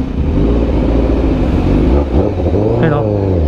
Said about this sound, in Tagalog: Iba yung tunog ng 1000cc na sport bike.